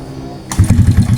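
A motorcycle engine cranks and catches after a short low murmur, then runs close and loud with a rough, pulsing burble.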